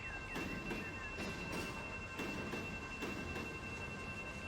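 A freight train locomotive under throttle hauling rock in the Run 8 Train Simulator video game rumbles steadily with rhythmic clanking pulses and a faint high whine, heard alone without talk.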